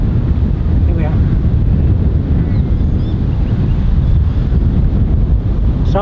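Strong wind buffets the microphone on an open golf course, a continuous loud low rumble filling the whole stretch, with a faint voice buried under it.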